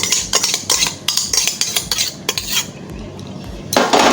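Raw fish being mixed with sour yogurt in a bowl, giving rapid scraping and clinking strokes of a spoon against the dish, loud and close, with short pauses between bursts and no talking.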